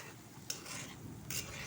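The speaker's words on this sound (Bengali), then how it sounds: "এখন ভালোভাবে লাড়াচাড়া দিব, পেঁয়াজের সাথে যেন মশলাটা একবারে ভালোভাবে মিশে যায়।" Fried onions and spice mix stirred in a pan, a spoon scraping in two brief strokes over a faint sizzle, close and quiet.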